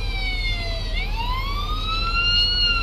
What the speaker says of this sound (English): If you could stop blaring the siren, that would be much appreciated.